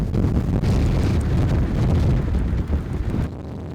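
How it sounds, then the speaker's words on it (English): Strong, gusty wind buffets a boat in snowy Greenland winter weather, roaring loudly and continuously against the microphone before easing off abruptly near the end. "Right now it is very windy."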